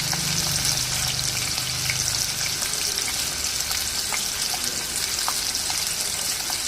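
Peanuts and chilies fry in hot oil in a pan for mango rice, a continuous loud sizzle with scattered pops and crackles running steadily throughout with no voices.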